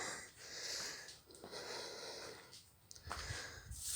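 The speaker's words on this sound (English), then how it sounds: "Stop breathing hard." Heavy, labored breathing from a man out of shape while harvesting sweet potatoes in a home garden, a run of close, rasping, wheezy breaths with short pauses between them.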